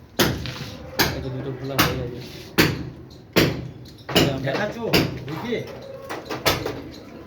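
Nailed wooden planks being pried and pulled off at an old house, with a series of sharp wooden knocks and creaking, splintering pulls repeating roughly every second, close and loud.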